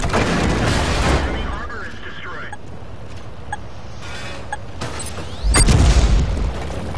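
An AMX tank's cannon fires in a tank video game: muffled booms over a steady battlefield rumble, with a heavier, louder blast about two-thirds of the way through.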